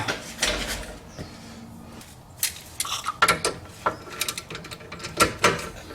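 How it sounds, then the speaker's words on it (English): Wrench tightening 14 mm rear brake caliper bolts on a Chrysler 200, giving scattered metallic clicks, clinks and ratcheting knocks close by, irregular and fairly quiet with short gaps. "Now I'll get a little more leverage and I'll tighten them up."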